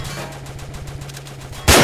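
Rapid automatic gunfire from a weapon in a video game, a steady stream of fast shots lasting over a second and a half and ending in a loud burst at the close.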